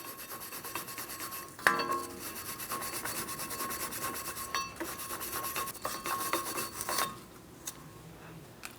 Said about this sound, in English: We're using the wire brush in between our lug studs and the hub.